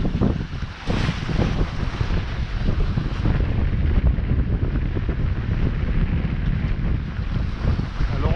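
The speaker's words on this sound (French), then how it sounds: "La mer bien formée." Rough, well-formed sea and strong wind while a sailboat runs under a partially furled genoa alone, with a continuous loud rush of wind across the microphone, water washing and surging against the hull, and no talking.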